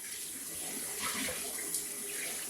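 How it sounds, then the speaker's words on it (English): Bare hands squeeze and squish Concord grapes in a tub of water for natural blue dye, a steady wet sloshing and swishing close up at low level, with no talk over it. "I'm also just smooshing them around with my hands in the water, grabbing bunches and squeezing them really hard"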